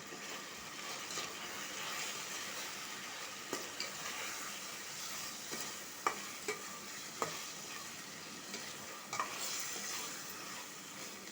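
Spice paste with salt and turmeric sizzling steadily in a pan while being stirred, with a constant frying hiss and occasional sharp scrapes and clinks of the spoon against the vessel, no voices.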